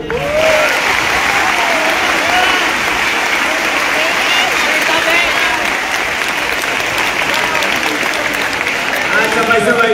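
Loud, sustained applause from a large graduation crowd of high school students in Tondo, honoring their teachers, steady and dense throughout.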